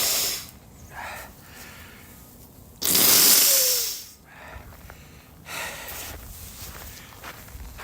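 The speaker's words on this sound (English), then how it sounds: "I got to blow my nose out because this is getting ridiculous." A single loud, breathy blast of air lasting about a second, a forceful nose blow outdoors in freezing cold during a road race, standing out from quieter rustling and footsteps.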